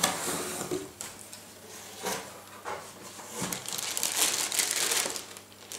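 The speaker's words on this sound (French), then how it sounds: "Nous allons ouvrir tout de suite la boîte et voir ce qu'il y a à l'intérieur." Packaging of a Garrett Apex metal detector box being opened, with soft crinkling and rustling of cardboard and plastic in several close, quiet bursts, no talking.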